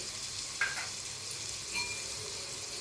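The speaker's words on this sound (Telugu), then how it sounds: "ఇదిగోండి దొండకాయలు బాగా వేగిపోయాయండి" Ivy gourd pieces fry in a pan with masala paste, giving a steady, soft sizzle with a couple of faint stirring clinks.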